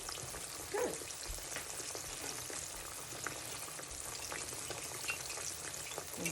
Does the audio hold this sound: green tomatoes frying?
yes